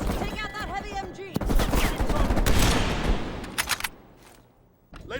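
Heavy machine gun fire in Call of Duty Black Ops Cold War, loud rapid bursts and dense rattling shots that fade toward the end, with a voice calling out over the start.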